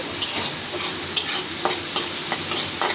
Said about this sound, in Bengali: আমি পেঁয়াজটা খুব বেশি ভাজবো না শুধু একটু নরম হয়ে যাবে